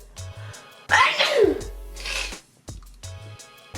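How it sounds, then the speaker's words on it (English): A single loud sneeze bursts out near the start, followed by a breathy after-sound, with background music playing throughout. "And so I'm gonna sneeze."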